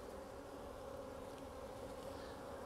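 Honey bees swarm around a Flow Hive, their massed wingbeats merging into one steady, unbroken drone that stays even and close throughout, with no voices over it.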